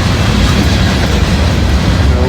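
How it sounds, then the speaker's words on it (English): A locomotive rolls past a trackside railroad defect detector at milepost 89.0, a steady, loud rumble of wheels and rail noise holding continuously throughout with no clear voice. "The locomotive just hit the defect detector."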